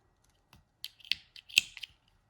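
Scissors snip through yarn ends on a crocheted puff stitch daisy flower: about six sharp, close, quiet cutting clicks in a short irregular run, with silence around them.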